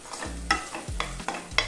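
Green peas frying in a pan while a spatula stirs them in steady repeated strokes, each scrape standing out over a soft, continuous sizzle.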